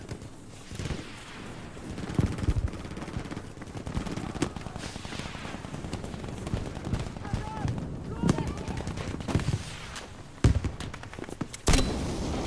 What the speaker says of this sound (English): Oh right, grenade launcher.